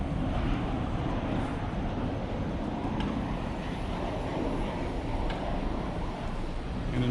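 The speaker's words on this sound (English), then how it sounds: "There's an aeroplane coming in." Aeroplane coming in to land at Mallorca near a working port, a steady, broad, distant roar of jet noise that holds at moderate level throughout without clear peaks.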